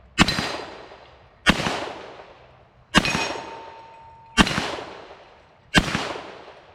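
A Smith and Wesson Pre-model 10 revolver firing round-nose rounds at a shooting range: five loud, sharp single shots at an even, unhurried pace, each ringing out and fading before the next.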